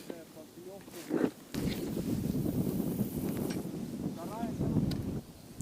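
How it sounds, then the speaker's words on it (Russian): Squally wind gusting across open water during extreme fishing, a broad steady roar with louder bursts, heard alongside speech. "Сейчас ветер еще подул, вообще непонятно было."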